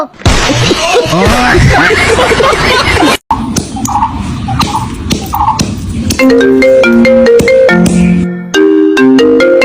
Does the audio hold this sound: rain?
no